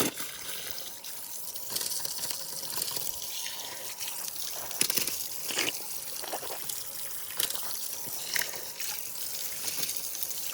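Hot, dirty water flows and trickles steadily from an outlet in Dong Valley, India, a continuous splashing stream close by with a few sputters as air escapes.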